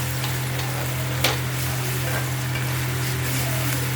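Ginger, garlic and onion sautéing in oil in a pan, a steady close sizzle and frying hiss with one brief utensil clink, no voices.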